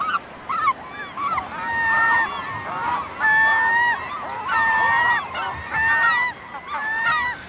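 A dense colony of breeding seabirds at the Protection Island sanctuary gives loud, honking, goose-like calls that overlap in repeated bursts, close and continuous.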